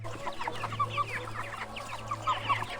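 A hen clucks in short, repeated bursts, close and fairly loud, with a steady low hum underneath and no talk.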